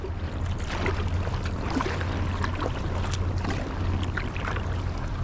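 A ship passing on the Rhine, heard from a kayak: a steady, low engine drone that holds throughout, under continuous water and wind noise close by.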